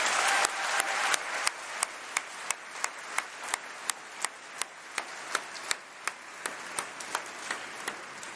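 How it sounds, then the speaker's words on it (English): Graduation ceremony audience applause, a steady wash of many hands clapping, with a few sharp, loud individual claps standing out close by at a regular beat throughout. "I think that also deserves a round of applause."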